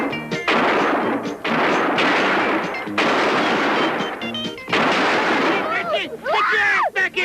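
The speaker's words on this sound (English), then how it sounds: "You all keep firing." Loud, repeated bursts of rapid gunfire in a western cowboy movie shootout, several volleys of shots crackling one after another with brief gaps between them.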